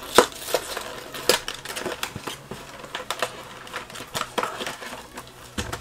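A Pokémon GO V Battle Deck package being ripped open, close crackly tearing and crinkling plastic in quick irregular bursts.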